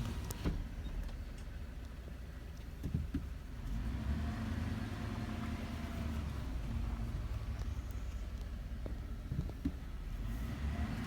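A car rumbles steadily up a rough, sloping gravel road near Bull Shoals Lake, its low engine drone and tyre noise constant, with occasional soft thumps and rattles from the uneven surface.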